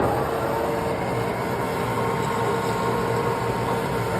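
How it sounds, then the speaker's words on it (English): A Tos 42-inch hydraulic lathe runs without the carriage engaged, giving a steady, loud mechanical hum and drone with a faint whine above it, constant through the clip and with no voices. "let's see if we can give it a roll. This is a hydraulic lathe."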